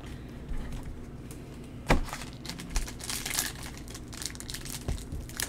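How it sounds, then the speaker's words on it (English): A foil wrapper on a 2020 WNBA Prizm basketball card pack crinkles and crackles as hands struggle to tear it open, with irregular sharp rustles and a few louder snaps up close. "Wow, this pack does not want to open."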